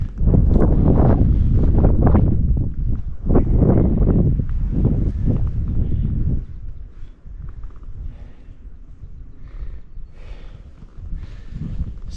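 Strong gusts blast across an open mountain bald on the Appalachian Trail, buffeting hard and loud for several seconds before easing into a lighter, steadier wind.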